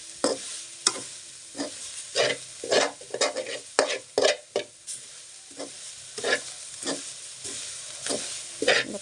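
A spoon scrapes and stirs grated coconut in a frying pan in quick, irregular strokes over a soft sizzle, close and fairly loud with no talking.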